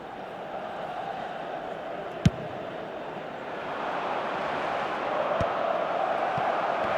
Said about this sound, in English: the moans and groans from the stands now are very audible